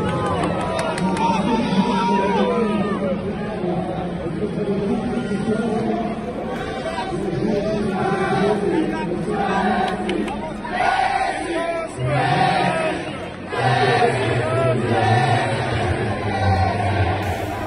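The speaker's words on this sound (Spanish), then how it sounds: "Cuando Messi estaba calentando sobre el césped, recibió la ovación del público." Stadium crowd at Parc des Princes roaring and chanting as Messi warms up on the pitch for PSG; a massive, sustained wall of voices with surging cheers and a commentator talking over it.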